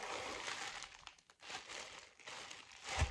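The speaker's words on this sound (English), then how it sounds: "excuse the rustling" Crinkly plastic yarn packaging rustles in bursts close by, with a brief quiet gap in the middle before the crackling resumes.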